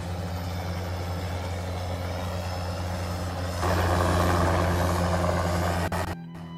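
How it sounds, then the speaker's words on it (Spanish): Steady, loud engine drone with a deep rotor-like hum that swells louder partway through, then cuts off abruptly near the end. "estamos esperando el helicóptero que viene en ese momento a recogernos"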